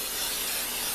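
Cooking spray hisses from a can into the inside of a preheated old crock pot, one short steady burst, close and fairly loud.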